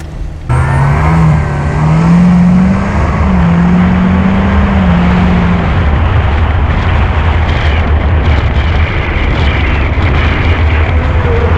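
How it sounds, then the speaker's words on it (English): A 757-horsepower Callaway-tuned Corvette C7 Z06 roars loudly from inside the car during a ride, its engine note climbing and falling through revs over a steady low rumble, with no talk. "Robert's gonna take us on a ride, show us what this Callaway is all about."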